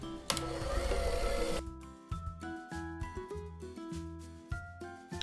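An electric mixer churns a very dry s'mores chocolate chip cookie tart batter. After a loud opening whoosh, the motor labors with rhythmic chugging pulses close by.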